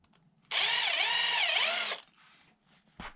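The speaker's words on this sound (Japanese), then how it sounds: "加工といってもね、穴を開ける程度なんですけども" A small drill whirs loudly for about one and a half seconds while boring a hole through a scavenged scrap piece being made into a button, its pitch wavering under load, followed by faint handling clicks.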